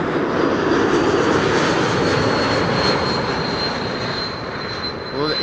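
An ITA Airways Airbus A350 at Schiphol gives off a loud, steady jet engine roar that holds nearly level throughout, with a faint high whine running above the broad rumble.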